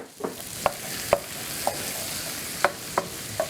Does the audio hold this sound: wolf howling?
no